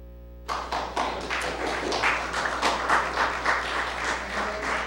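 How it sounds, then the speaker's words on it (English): After a brief silence, an audience at a mayoral candidate forum breaks into applause: a sudden start, then a mix of scattered individual claps that thickens into steady clapping. "if you'll just hold your applause"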